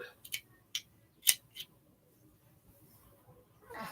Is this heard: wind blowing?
no